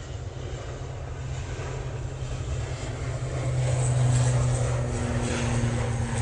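An airliner departs Manchester Airport on a windy day, its engines a steady low drone with tonal hum that grows louder midway and stays strong, with wind noise around it.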